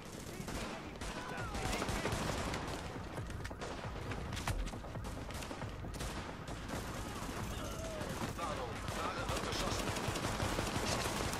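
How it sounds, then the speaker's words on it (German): Dense, continuous gunfire from The Division multiplayer fills the whole stretch, with rapid overlapping bursts and shots at a fairly even loudness and no letup. "Guck mal, die schießen wieder da drauf."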